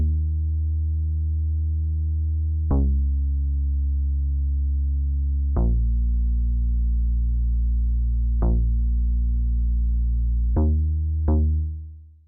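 Big, clicky synth bass for an 80s synth pop beat plays alone: five long, held bass notes, each starting with a sharp bright click and sustaining for several seconds before the next.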